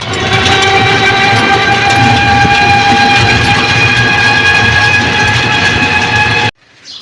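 Train pulling into New Jalpaiguri station after a Howrah run, a loud continuous rumble of wheels and carriages with a sustained horn-like tone, cutting off abruptly near the end.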